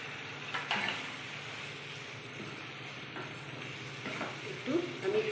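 A spice paste of ground cumin, coriander powder and chilli powder fries in a pan for chicken keema. The sizzle is faint and steady with occasional stirring scrapes, and soft voice traces come and go.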